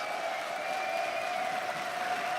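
A League of Legends esports arena crowd applauds and cheers before a match, a steady, moderately loud wash of clapping and noise with no clear talk.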